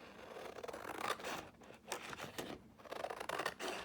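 Close snipping of paper as a lace folio page edge is trimmed, a few rasping scissor cuts in quick succession, near and fairly quiet.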